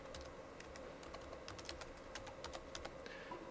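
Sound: typing a password on a keyboard

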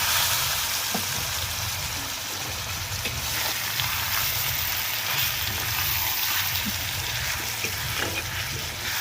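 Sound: marinated mutton frying in oil

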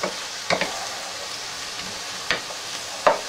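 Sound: stirring cracked pepper in a cooking pan

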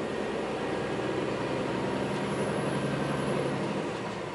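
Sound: Scania truck shifting gears while driving

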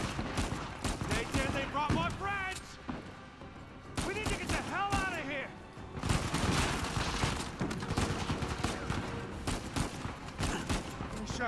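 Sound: gunfire and headshots in the video game Uncharted 4

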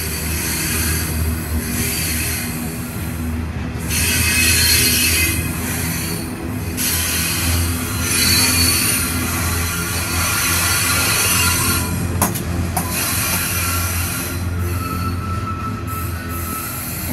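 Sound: train passing on rails

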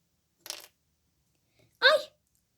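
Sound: spoon falling

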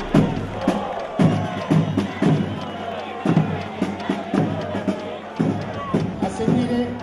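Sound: crowd applauding at the Palio Sant'Agapito

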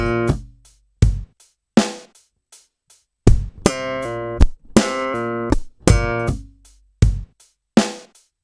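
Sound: slap bass line with muted slap, pull and left-hand slap

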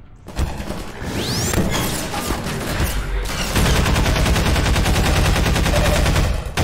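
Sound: gunfire in the video game Half-Life 2 RTX

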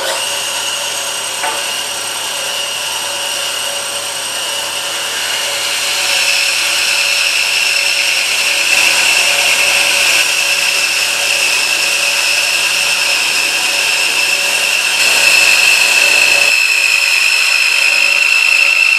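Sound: bandsaw cutting out scrap plywood template

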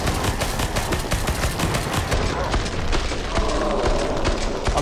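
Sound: gunfire from the video game Killing Floor 2

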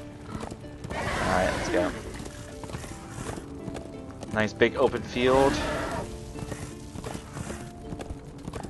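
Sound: horse galloping in Darksiders II video game

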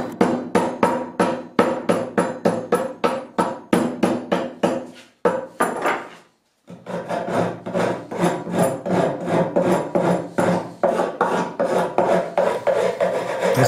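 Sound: wire brush and hammer distressing glued wood board

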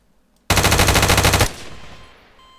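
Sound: Uzi submachine gun firing in Garry's Mod video game

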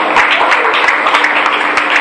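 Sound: church congregation applauding visitors

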